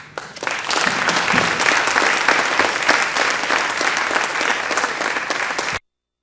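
Lecture audience applauding to welcome guest speakers: dense, steady clapping from a large crowd that starts up quickly, holds evenly for several seconds and then cuts off abruptly.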